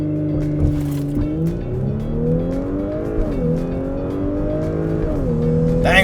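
An Audi S4 (B9) launching hard on launch control: a loud, close engine climbs steadily in pitch through the gears, with brief dips at each quick shift before it pulls again, and no talk.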